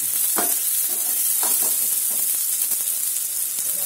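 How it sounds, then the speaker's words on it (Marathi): Tomatoes tossed into a frying pan for a Maggie noodle dish and stirred, a steady loud sizzle and hiss with a few spoon scrapes and stirring knocks over the top, no talking. "आता याच्यामध्ये आपण आपले टोमॅटो टाकून घेऊया."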